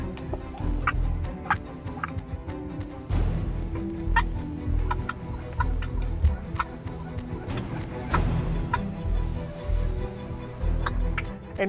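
Wild turkeys at roost in timber, hens and gobblers calling and clucking in scattered bursts over steady low outdoor rumble, some calls nearer, others distant.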